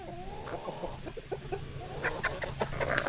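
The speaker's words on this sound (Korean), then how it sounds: "이건 꽃닭, 화초닭." Ornamental flower chickens clucking in a rural farmyard: several soft, close clucks and short calls in irregular bursts, growing busier toward the end over faint background noise.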